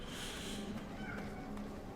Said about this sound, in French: J'ai mon chat qui vient chercher des gratouilles